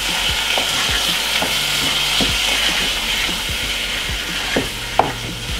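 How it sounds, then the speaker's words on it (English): Callaloo with vegan seasoning and pepper fries in a pan with a steady sizzle. A spoon scrapes and knocks against the pan as it is stirred, and one sharp clack stands out near the end. "We're gonna add a little bit of pepper. We're gonna give it a lovely stir."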